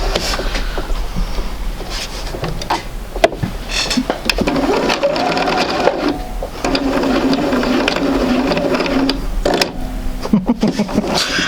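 A sewing machine stitches a quarter-inch seam through a quilt sampler block, loud and close, its motor whirring in bursts with short pauses and handling clatter between runs.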